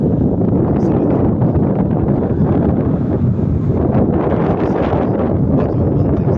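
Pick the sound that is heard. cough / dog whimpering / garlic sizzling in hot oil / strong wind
strong wind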